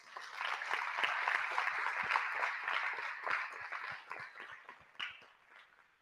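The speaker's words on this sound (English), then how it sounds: "Let's give them a big round of applause." Applause from the audience at a MoShape general session, thanking the event sponsors; a steady wash of many hands clapping that holds for several seconds and thins out toward the end.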